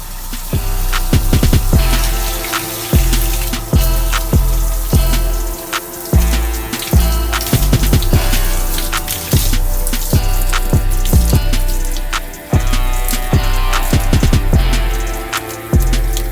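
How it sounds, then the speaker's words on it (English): Running water rinsing aloe vera out of curly hair, heard as a loud, continuous splashing flow with steady patter and frequent small knocks and bumps throughout, with no talking. "I'm going to go ahead and rinse this out."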